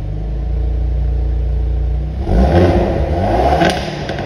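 A 2022 Hyundai Veloster N idles with a deep, even rumble, then the engine is blipped louder, with a sharp popping crackle from the exhaust near the end.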